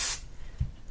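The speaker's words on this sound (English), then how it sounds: "you're going to spray it down so it's nice and flat and tight" A spray bottle gives one short, close hiss of mist onto minky quilt fabric, followed by a faint soft bump.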